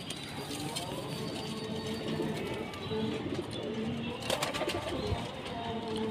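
Domestic pigeons in a breeding loft coo softly and continuously under a steady wash of background noise, with faint wing and feather rustles among the birds.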